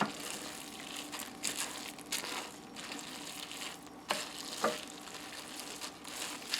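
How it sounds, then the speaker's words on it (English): Barbecue bacon chicken gets a quick stir in a crockpot, giving soft wet scraping and squelching with a few sharper clicks of the utensil against the pot, fairly quiet and irregular. "And then let me give that a quick stir."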